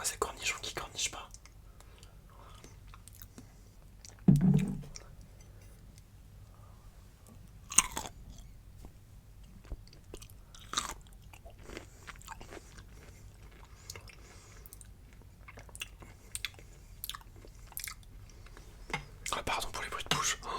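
Close, quiet mouth sounds of someone chewing and biting into sweet, soft pickles, with wet squishes and occasional crunchy bites scattered across the stretch, plus faint whispered talk in an intimate setting.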